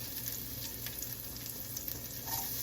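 Onions cook in warm melted bacon fat, giving a faint, steady sizzle and soft crackle at a low level.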